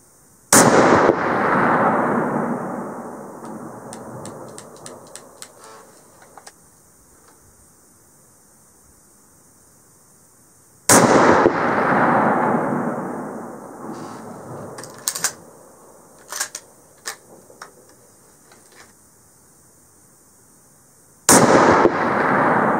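Three loud rifle shots from a Savage 99F in .308 at a long-range outdoor shoot, each a sharp crack followed by a long rolling echo, spaced about ten seconds apart.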